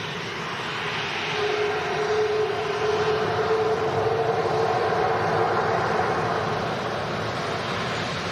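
An airliner engine drones steadily at an airport, a broad, even roar with a faint whining tone running through it, heard from some distance with no talk over it.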